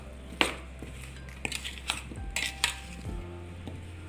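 Metal spoon clinks and scrapes in a pot as raw ambazhanga (hog plum) pickle is mixed with salt and cooled boiled water, several sharp taps and stirs over a low steady hum.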